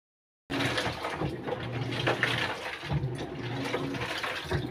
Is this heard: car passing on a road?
no